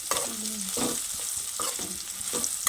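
Bitter gourd pieces fry in a pan, with a steady hiss of oil under intermittent scraping stirs. The stirring and sizzling sound close and moderately loud, and nobody speaks.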